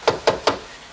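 Three evenly spaced knocks on a wooden door at the top of a walk-up stairwell in a 1940s detective spoof, sharp and close, followed by quiet.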